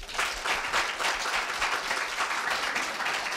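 A hall audience at a Korea University middle school speech festival breaks into sustained, dense applause after a student's speech, with many hands clapping evenly and loudly throughout.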